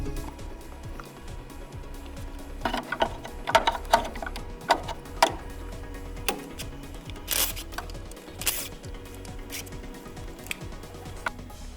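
A hand ratchet works oil pan bolts loose on a 6.7 Cummins engine in a 2008 Dodge 2500 pickup, with rapid close clicking bursts and occasional metallic clanks, no talk.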